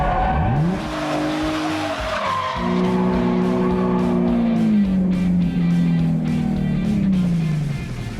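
A Chevrolet Trailblazer SS built for drifting slides around with a loud, sustained tire squeal that bends in pitch over the engine's steady drone, continuing almost without a break.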